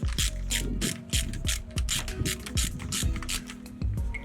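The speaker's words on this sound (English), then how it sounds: "What we'll use for this is a 13mm socket on a ratchet and a 13mm" A 13mm socket on a ratchet tightening bolts while fitting a Rhinox Autolock quick hitch, rapid close clicking in repeated bursts of the pawl with rhythmic back-and-forth strokes, loud and alone.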